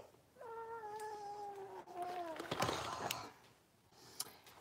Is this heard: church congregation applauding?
no